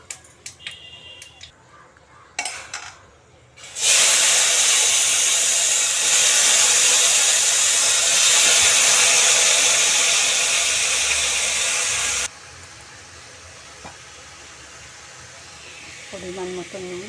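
Dried red chilies and five-spice seeds hit hot white oil in a pan, bursting into a loud, steady hiss that holds for about eight seconds and then stops abruptly, with faint clinks before and after.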